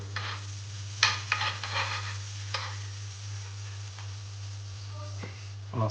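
Burger buns warm in butter on a hot griddle, giving a soft, low sizzle with scraping and rubbing of a spatula and a few clinks, under a steady low hum.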